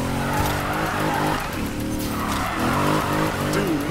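Car drifting in a street-racing game, with a loud engine roar and continuous tire squeal that wavers in pitch as the slide goes on, steady and close with no talking.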